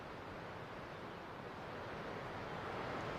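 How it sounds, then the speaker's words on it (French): Continuous broad rushing wind, even and unbroken, with a faint surf-like wash underneath and no voices. "Entends-tu le vent?"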